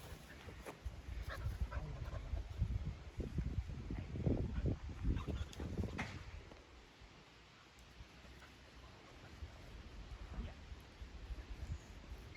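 Sheepdog panting in bursts during a herding training session, close and fairly loud over a low outdoor rumble, with a quieter stretch midway.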